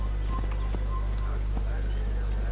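Horse hooves clip-clopping in the Assassin's Creed video game, a steady run of light rhythmic hoof beats under someone talking over them.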